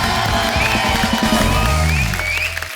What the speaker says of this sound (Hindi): जोरदार तालियां हो जाए मल्लिका के लिए।